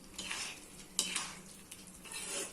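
Tomato pickle being stirred and sautéed in a pan, with a soft continuous sizzle and scraping stirring strokes, a sharper utensil clink near the middle, close and moderately quiet.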